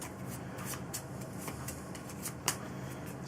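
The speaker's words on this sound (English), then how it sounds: "So we shuffle that up." Cards are shuffled with a steady soft riffling and shuffling patter, broken by a single sharper snap near the end.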